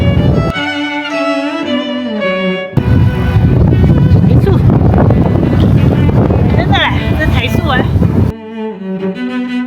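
Strong coastal wind sweeps sand across the Taoyuan seaside cycling path by the Caota dunes, roaring as loud, steady buffeting on the microphone through the middle stretch, with music playing before and after.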